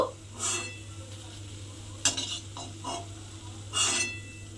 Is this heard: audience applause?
no